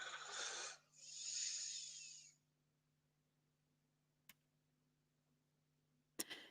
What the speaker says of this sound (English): The sound of your dog snoring is hilarious.